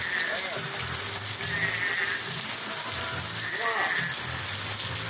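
Heavy rain pours during an Arizona storm in July 2021, a dense constant hiss with low engine-like rumble beneath and faint voices in the background.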